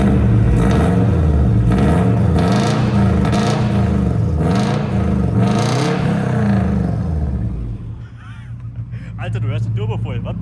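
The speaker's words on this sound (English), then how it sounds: "how a Subaru exhaust should look and hopefully also sound" A Subaru engine with a new exhaust and turbo runs loud and close, revving in repeated rising and falling pulses, with a deep burbling note before it settles to a lower idle.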